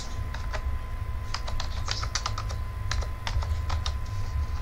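Keys clatter on a computer keyboard as text is typed into Photoshop, quick irregular clusters of crisp taps over a steady low hum, with no talking.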